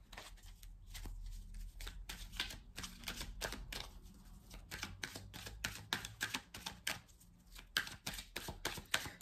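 Tarot cards being shuffled close up, with quick repeated riffling and tapping bursts in an irregular rhythm, fairly quiet and with no voices.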